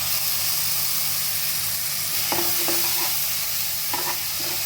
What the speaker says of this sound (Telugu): ఉల్లిపాయలు బాగా వేగిపోయాయి కదా, ఇప్పుడు మనం చేసుకున్న టమాటా పేస్ట్ వేసుకుందామండి.